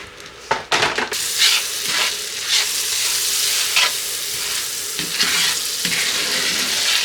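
Butter and sugar melting and sizzling in a pan over low heat for a pineapple upside-down cake, a loud steady close-up sizzle with occasional stirring scrapes and a few utensil knocks, no voices.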